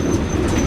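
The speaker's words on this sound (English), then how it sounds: "Yep, there's definitely a train coming through." A train rolls through a level crossing in Hanoi, a loud close rumble of wheels on rails with a thin high steady squeal above, brief and continuous, without voices.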